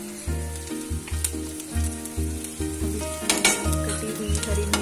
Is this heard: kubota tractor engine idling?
no